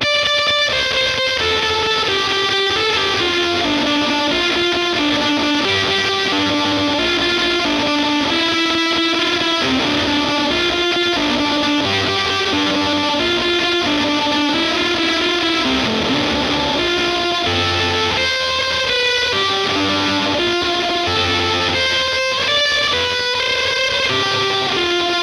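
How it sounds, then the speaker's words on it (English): A heavily fuzzed electric guitar, run through reverb and delay into the front of a Bad Machine Fuzz pedal, plays a sustained, melodic lead line, washed in reverb and echoing delay, loud and continuous throughout. "run a reverb and delay into the front end of a fuzz pedal"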